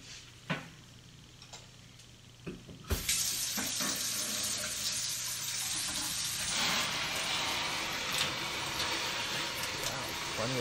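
After a few small knocks and clicks, tap water suddenly gushes in a loud, steady splashing rush onto a small model roof propped on taped pencils during a rain test.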